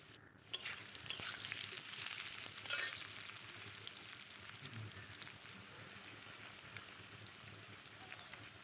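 Large chunks of potato frying in oil in a pan, a steady dense sizzle like light rain that runs throughout, with a couple of louder spatter bursts early on and no talking.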